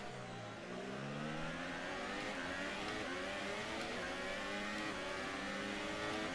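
A Renault Formula 1 car engine in the F1 2018 racing game screams at high revs, its pitch climbing steadily through gears in one continuous loud drone with no talk.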